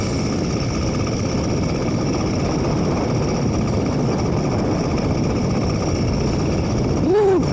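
An air-cooled motorized bicycle engine runs during a cross-country winter ride, giving a steady, loud droning buzz with wind rush that continues for the whole stretch, with a brief rising whine near the end.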